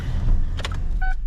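Power window motor on a 2008 Silverado running briefly, a short whirring hum with a couple of clicks over a low idling background.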